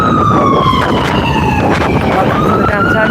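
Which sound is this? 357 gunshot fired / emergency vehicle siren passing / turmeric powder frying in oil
emergency vehicle siren passing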